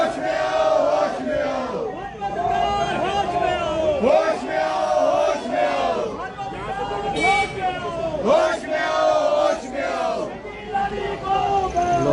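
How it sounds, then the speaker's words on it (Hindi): A large crowd protesting against Smriti Irani, with loud continuous chanting and shouting voices rising and falling in rhythmic waves throughout. "ईरानी का पुरजोर विरोध किया जा रहा है"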